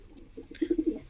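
A pigeon at a pigeon loft coos close by, a low soft run of four or five throaty pulses in quick rhythm after a couple of quieter murmurs, with no talking over it.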